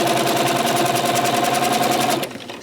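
A sewing machine stitches quilt binding with a loud, rapid, even needle chatter close by, then cuts off abruptly near the end.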